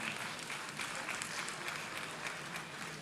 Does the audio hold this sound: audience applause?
yes